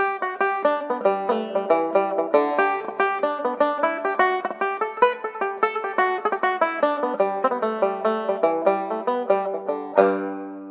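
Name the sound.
banjo playing a jig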